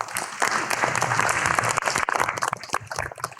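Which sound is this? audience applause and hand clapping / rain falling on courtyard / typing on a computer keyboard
audience applause and hand clapping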